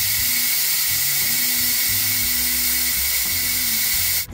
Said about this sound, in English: I wanted to show you how quick release goes. You got to turn it off and let all that steam come out.